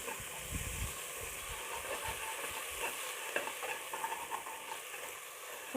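Mint and coriander leaves sautéing in a pan for mutton biryani made with seeraga samba rice, a soft, steady sizzle with low stirring scrapes and no talk.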